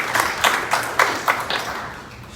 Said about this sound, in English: Let's give Mr. Tom Tingle a round of applause.